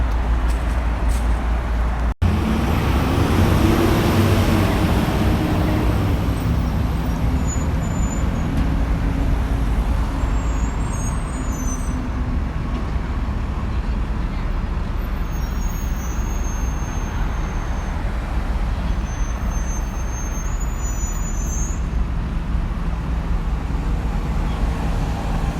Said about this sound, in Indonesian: Ya busnya sudah datang, kita tinggal naik busnya.